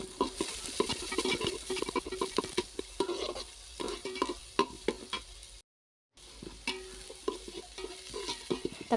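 Chopped onion and green chilli sautéing in a pan for idli upma: a spoon stirring and scraping, with crackling sizzle in close, busy bursts, broken by a brief dead gap partway through.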